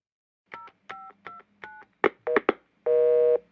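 A run of push-button telephone dialing tones, four even beeps followed by a quicker cluster, then a steady busy-line tone, heard clearly and alone.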